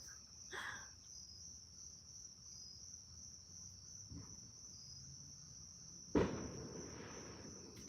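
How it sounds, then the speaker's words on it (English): A single firework goes off outdoors at night, one sharp bang with a short rumbling tail heard at a distance, over a steady chorus of chirping crickets. "And now they're setting off fireworks."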